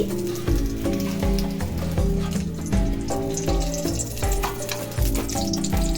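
Ghee heating in a karahi for Kolkata-style chicken rezala gives a continuous sizzle with faint scraping and pulsing low tones underneath, no talking.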